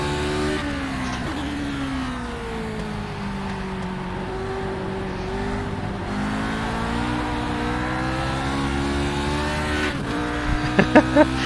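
Race car engine in the iRacing sim, loud and continuous, drops and then climbs in pitch as power is fed on out of a corner, with a few brief sharp knocks near the end.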